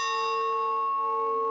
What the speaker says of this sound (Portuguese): O sino toca anunciando as 6 da tarde e hora do ensaio da novena